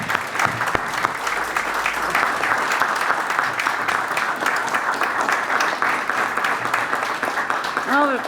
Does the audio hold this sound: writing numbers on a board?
no